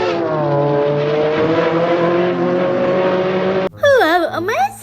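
A race car engine revs hard in a sustained, droning whine with climbing harmonics, then breaks into a louder, wavering, squealing rev that rises and falls.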